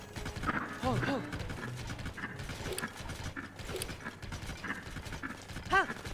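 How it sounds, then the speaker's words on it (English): Skeleton horse hooves clip-clop steadily in The Legend of Zelda: Tears of the Kingdom, with soft game sounds and occasional horse snorts under someone talking. "Maybe I'll ride a skull horse to it."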